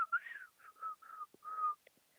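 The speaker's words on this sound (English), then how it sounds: "Wow, I can't whistle." A person tries to whistle, producing a quiet, breathy sequence of short wavering notes with gaps and small clicks, close and alone with no talk.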